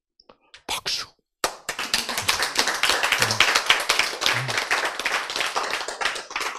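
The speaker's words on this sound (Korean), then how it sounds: "박수." An audience at a health lecture breaks into applause, a few scattered claps first and then a dense, sustained clapping that fills the room until the end.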